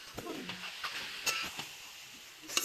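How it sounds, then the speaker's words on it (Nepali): Kabab pieces sizzle in a hot pan, quiet and steady, while a spoon scrapes and stirs them in a few soft, irregular strokes. "भुटिन लागिसकेको छ, अलि भुट्दै जानुपर्छ।"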